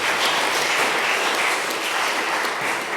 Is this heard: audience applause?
yes